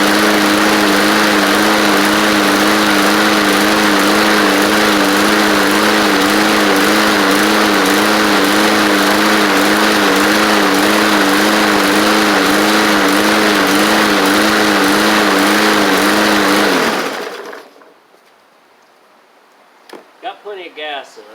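A Bolens basic push mower with a stuck Briggs and Stratton OHV engine runs loud and close with a steady chugging drone, then cuts off abruptly, leaving near silence broken by a few faint knocks and brief talk.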